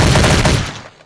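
Rapid M4 rifle fire in the Red Alliance FPS game, a loud, close burst of several quick cracking shots that ends abruptly and fades into a short decaying tail.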